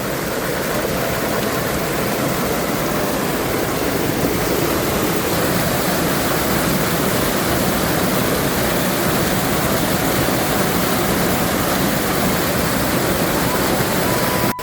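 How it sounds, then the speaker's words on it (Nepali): Water rushes steadily and loudly down a channel that feeds a traditional watermill, a dense unbroken roar that lasts from start to finish with no pauses. "यो पानी यसरी जान्छ अनि तल चाहिँ घट्टो घुमाउँछ है त"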